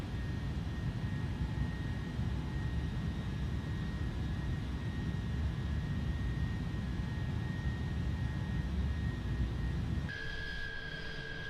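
Airplane cabin during descent with flaps full, a steady loud broadband engine and airflow roar with a constant tone, shifting slightly near the end.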